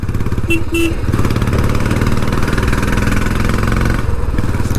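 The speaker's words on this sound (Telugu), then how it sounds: "సో అదొక బ్యూటీ అని చెప్పాలి ఎగ్జాస్ట్ మార్పిస్తే రాయల్ ఎన్ఫీల్డ్కి" A Royal Enfield Classic 350 fitted with an aftermarket exhaust idles close by, a loud, steady low thumping beat with a couple of short horn-like beeps early on.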